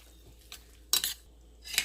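A spoon stirs yellow cucumber chutney with pieces in a bowl, three quick close scrapes and clinks spaced apart over quiet background.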